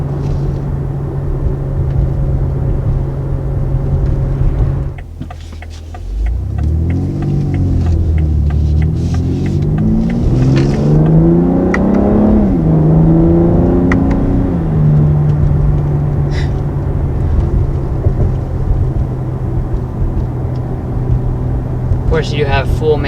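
A 2020 BMW X3 M performance SUV with a 500 hp engine runs at a steady hum, then revs up through several rising and falling sweeps in the middle before settling back to idle, loud and close throughout.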